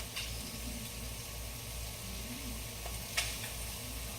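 Shrimp frying in a hot pan, a soft steady sizzle with low hum beneath, with a brief scrape or clatter as they are flipped near the end.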